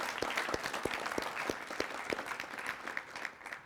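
Audience applause at a closing ceremony: a steady wash of many hands clapping with a few sharp, distinct claps punctuating it, sustained and fairly full throughout.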